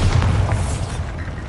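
A Bombarda spell blasts in the Hogwarts Legacy game as a single deep, booming explosion with a heavy low rumble that fills the short moment and fades slightly at the end.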